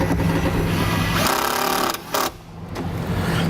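Power driver sinking a self-tapping screw into the bodywork of a 2015 Jeep Renegade, a loud steady motor whir that briefly drops out near the end before resuming, no talk.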